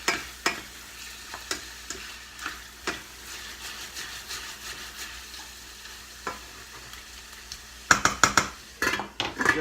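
Chicken sizzles and browns in a stir-fry pan, with soft steady frying under intermittent clinks and scrapes of a utensil stirring against the pan, no talking.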